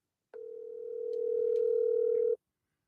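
A steady telephone dial tone sounds alone for about two seconds while a phone call is being placed, clean and continuous before cutting off abruptly.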